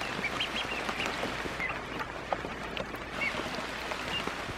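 Faint high peeping and soft quacking from a baby duck among fowl outdoors, short chirps scattered over a quiet background.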